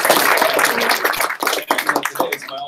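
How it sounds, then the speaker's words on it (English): An audience at a blockchain demo night and grand opening event in Santa Monica claps in a dense, steady wash of applause that thins out over about three seconds, with some crowd noise mixed in. "Can I get some applause?"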